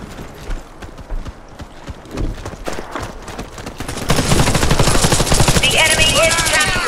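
Gunfire in the Warface video game starts with scattered single shots and short bursts, then becomes sustained, loud automatic fire that continues to the end.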